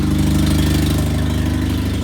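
The engine of a Mazda RX-7 FB idles, a steady low rumble with a rhythmic throb, loud and close, with no talking.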